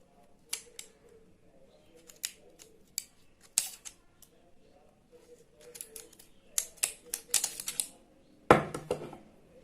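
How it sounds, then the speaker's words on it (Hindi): Scissors snip repeatedly through sheets of paper while ceiling fan winding is prepared, with crisp bursts of cuts in irregular clusters followed by a louder rustle of paper near the end; no talking. "कैंची की मदद से पेपर आपको काटना बताएंगे"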